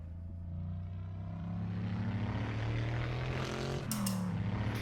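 A racing car engine in Assetto Corsa, from a classic World Sportscar Championship legends car at Riverside, drones loudly with a steady low tone that slowly climbs in pitch, then dips and recovers near the end.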